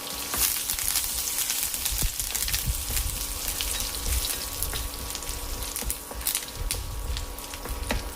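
A handful of curry leaves fry in hot oil over a low flame, giving a steady close sizzle with crackly spatters throughout.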